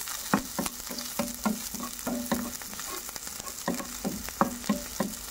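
Garlic sautéing in a hot pan, a continuous bright sizzle and crackle close up with regular stirring scrapes and taps, no voices.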